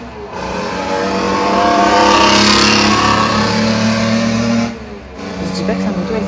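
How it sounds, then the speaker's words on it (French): A motorcycle engine revs loudly and steadily, swelling in the middle, dipping briefly near the end and then picking up again, with voices present. "Je dis pas que sa moto elle fait beaucoup de bruit quand même"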